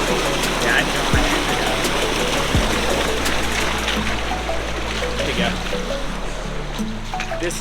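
Steady rushing of stream water flowing through a low tributary in a narrow canyon, a continuous broad wash filling the whole stretch with a few knocks and scrapes from hikers moving nearby.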